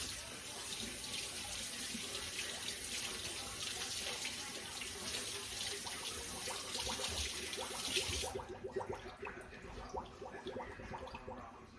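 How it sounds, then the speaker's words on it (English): Hands rinsed under a running kitchen tap, a steady splashing water stream that cuts off partway, leaving softer dripping and handling sounds. "I'm going to rinse my hands real quick."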